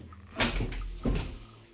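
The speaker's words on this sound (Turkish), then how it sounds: "Bekle Emir açacağım sana kapıyı." A door or cupboard is opened indoors, making two close, muffled knocks and thumps about half a second apart, with a faint rattle between them.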